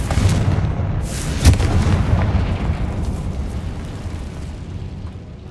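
Confringo spell explosions in the video game Hogwarts Legacy, a loud rumbling barrage with a sharp boom early on, fading into a sustained low roar.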